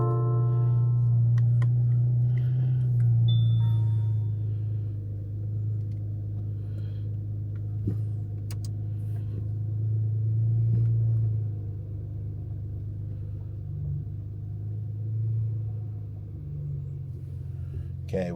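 A 2018 Porsche Panamera 4S (971) sits idling on ramps, its engine giving a steady low rumble with a slight rise early on, a few faint clicks and some distant talk over it.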